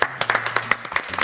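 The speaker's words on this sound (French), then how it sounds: "Commence à applaudir, gros" Scattered hand clapping from a small group, uneven and fairly close, a short burst of sparse applause with faint speech underneath.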